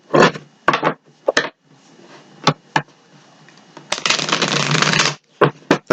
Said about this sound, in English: I'm going to give it 3 shuffles.